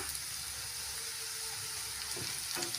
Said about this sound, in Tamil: வெங்காயம் நல்லா ப்ரௌன் கலரில் வதங்கட்டும்